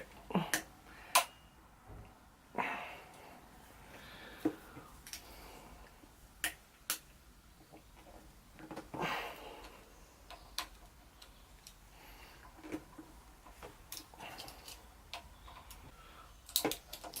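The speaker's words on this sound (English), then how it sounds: "So that's just loosening the 2 pinch bolts on there" An Allen key loosening the steering pinch bolts on a Honda Grom motorcycle, giving sparse metallic ticks and clicks spaced irregularly, close up and fairly quiet with no voices.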